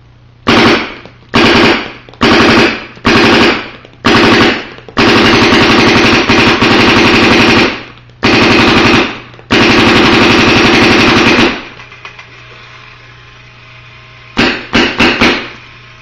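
Bob Long Victory paintball marker firing in a garage, with loud rapid-fire bursts of sharp shots separated by short pauses, including long sustained strings, then a final quick burst after a quiet gap.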